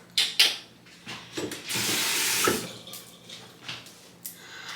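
Tap water running into a sink while a face is rinsed after cleansing balm, a close steady splashing gush with intermittent splashes and handling clatter around it.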